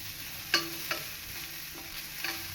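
Coriander and chilli powder roast in a pan for a ginger curry with roasted coconut, giving a soft sizzle broken by a few sharp scrapes of a spoon stirring.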